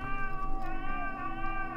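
Close, sustained cat meowing: one long, strained, harmonically rich wail that wavers in pitch and holds for nearly two seconds, with no talk over it.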